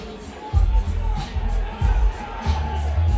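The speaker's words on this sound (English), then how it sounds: "the crowd is getting into it" The crowd at a charity boxing match reacts in a large hall. Low rumbling cheers and shouts rise in repeated surges over a constant murmur, with faint talk mixed into the noise.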